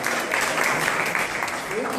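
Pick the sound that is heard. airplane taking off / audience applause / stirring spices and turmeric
audience applause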